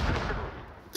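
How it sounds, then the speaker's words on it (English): Rapid gunfire in the Urban Heat mobile first-person shooter game, a dense loud burst of shots filling the whole second, with no talking. "Yo, who is shooting me?"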